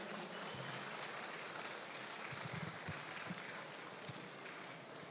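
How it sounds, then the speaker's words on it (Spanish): Audience applause for the exhibitors at an equestrian show at the World Equestrian Center in Ocala, Florida, a steady, moderately distant wash of clapping that holds through the whole stretch with no talk. "Yo quiero que el público le ofrezca un fuerte aplauso a cada uno de estos"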